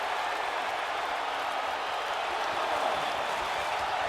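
Arena crowd in the wrestling video game WWE 2K19 roaring and chanting in a thick, continuous wall of noise that swells slightly toward the end.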